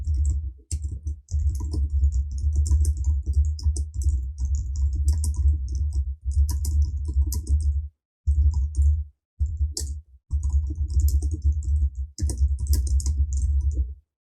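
Keys clatter steadily on a computer keyboard as short lines of text are entered, bursts of quick presses broken by brief pauses, close and clear with no talking.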